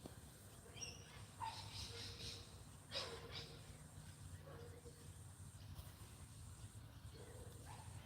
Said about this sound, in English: I can hear a couple of dogs actually.